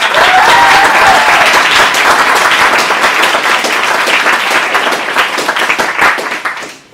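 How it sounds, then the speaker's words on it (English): Loud, sustained applause from a sizable audience at a graduation ceremony, steady for several seconds before fading out at the end. "Let's go ahead and give them a round of applause."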